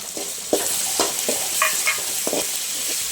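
A ground paste of ginger, garlic, cinnamon, clove and cardamom sautés in a hot pan, giving a loud, close sizzle broken by repeated scraping stirs.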